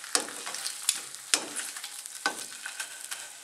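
A steak frying in a fry pan on a VitalGrill wood-burning camping stove, giving a soft, steady crackle with a few sharper pops, quiet and close.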